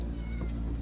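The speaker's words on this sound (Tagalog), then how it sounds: "yung mga pusa ko sa labas" Cats meowing close by outside a back door, one short loud meow standing out over steady background noise.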